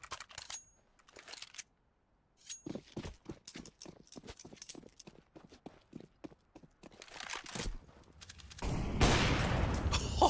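Gunfire in a CS:GO Fight Night match between LDLC and Epsilon, with an M4 rifle in play: a run of sharp close shots and short bursts through the first half, then louder dense noisy firing and action toward the end.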